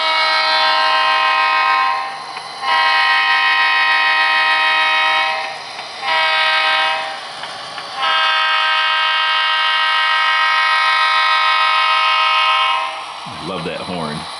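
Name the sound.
SD40-2 locomotive horn at crossing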